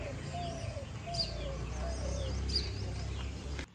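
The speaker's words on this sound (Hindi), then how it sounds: "वहां तक घुघुती बोल रही है इस तरफ से" A spotted dove calls in the Dehradun hills on a morning climb, soft repeated coos carrying from a distance over steady outdoor background noise, with other birds chirping faintly.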